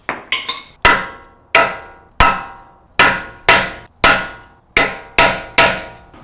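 A punch is struck with a hammer to stake the axle nut on a 4Runner during a CV axle replacement, about a dozen loud, ringing metallic blows at an uneven pace after a few lighter taps, close up with no talking.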